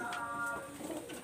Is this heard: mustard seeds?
no